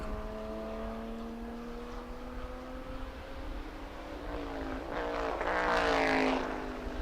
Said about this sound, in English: And hearing that Corvette getting ready for the tow.